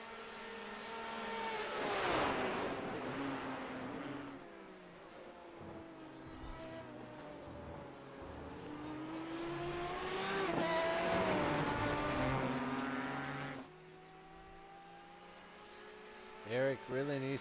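GTE race cars in the iRacing sim scream down the Mulsanne straight at Le Mans, engines holding high revs then shifting and rising again, loud and continuous under a commentator's voice.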